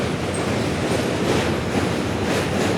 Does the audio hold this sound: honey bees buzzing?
no